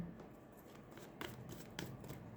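Tarot cards being shuffled by hand, a soft continuous riffling with a few brief louder flutters, faint and close.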